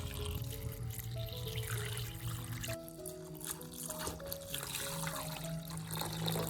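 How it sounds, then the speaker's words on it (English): Water pours steadily for several seconds into a cooking pot, a continuous splashing trickle with a faint tonal ring rising as it fills. "Then add 3 liters of water."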